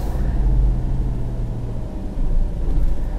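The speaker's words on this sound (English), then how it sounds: "Let's try this speed hump." A Peugeot Landtrek bakkie rolls over a speed hump near gravel, a steady low road rumble with a soft thump of the suspension partway through, no voices.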